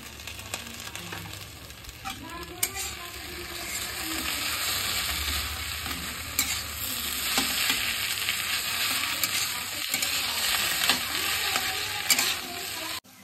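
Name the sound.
stir-frying egg chowmein with tomato ketchup in a pan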